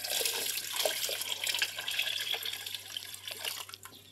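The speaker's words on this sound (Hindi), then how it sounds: "ऑलमोस्ट इसमें 4 लीटर पानी हमने डालना है" Water is poured into a large pot of beef for yakhni pulao, a close, continuous splashing gush with bubbly pouring texture that tapers slightly toward the end, with no talking.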